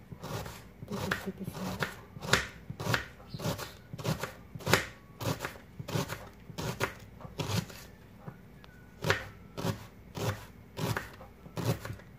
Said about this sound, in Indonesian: aku pakai satu siung bawang putih ya sekarang mau diiris-iris dulu diiris begini aja